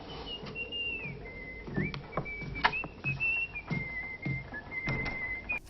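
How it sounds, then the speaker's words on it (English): A man whistles a wandering tune to himself downstairs in a Hellraiser (1987) film scene, a thin sustained melody with scattered knocks and clatter beneath it, moderately near. "your boring husband whistles to himself"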